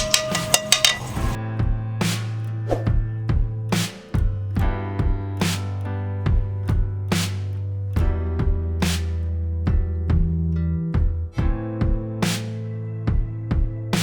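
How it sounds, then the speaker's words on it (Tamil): Chicken pieces stirred into a marinade in a metal bowl, the utensil clinking and scraping against the sides in a steady rhythm of repeated ringing taps, close and fairly loud. "இப்போ நம்ம சிக்கனை போட்டு நல்லா மிக்ஸ் பண்ணிட்டோம்."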